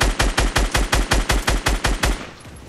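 Rapid automatic gunfire in Fortnite, about a dozen loud, evenly spaced shots in a quick burst that stops abruptly, leaving a short fading tail, with no voices.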